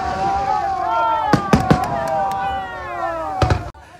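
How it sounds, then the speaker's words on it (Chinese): Fireworks crackle and pop over the sea during a ghost-festival water-lantern release in Keelung, with sharp bangs over a whistling, continuous background and talking mixed in. "伴随着烟火点亮八斗子的夜空。"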